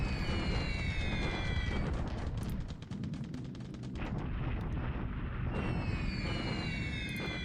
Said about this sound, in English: he has a new army bomber now. Still bombing Bandwang.